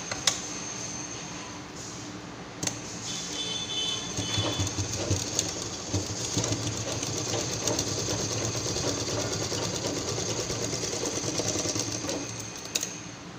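A sewing machine stitches a simple purse, a rapid, even mechanical whirr of needle strokes that runs steadily and close by after a few brief starts.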